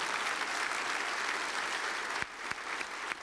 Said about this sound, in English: How about a round of applause for all of our winners this year?